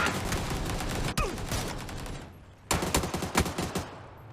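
Rapid bursts of gunfire in the video game PUBG crackle in quick succession, pausing briefly before another volley of shots.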